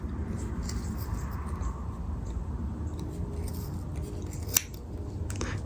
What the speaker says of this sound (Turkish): Buradan kesiyorum bu ipi.